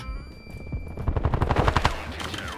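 Rapid automatic gunfire in the mobile shooter Standoff 2, a fast, evenly spaced string of close, punchy shots building to a loud sustained burst before tapering off.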